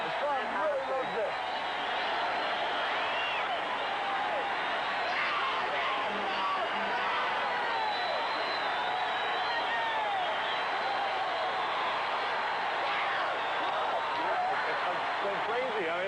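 A large arena crowd of about 4,000 at the 1977 Mr. Olympia bodybuilding contest fills the air with a steady, dense roar of cheering and whistles, continuous and fairly loud throughout with no gaps.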